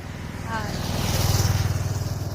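A motorbike rides along the road to Tarakeswar during the Shravani Mela, its engine a close, throbbing low drone that swells steadily, with a voice speaking over it.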